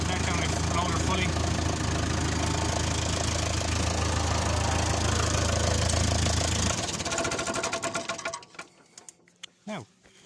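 A Fordson Diesel Major tractor engine running hard as the front loader lowers, a loud, dense diesel clatter that eases into a lighter idle before cutting off near the end, close by.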